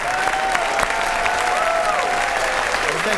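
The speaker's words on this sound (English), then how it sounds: "Big round of applause." A studio audience gives a big round of applause as martial artist and actor Michael J. White is welcomed on, steady dense clapping with cheering voices mixed in, loud and continuous throughout.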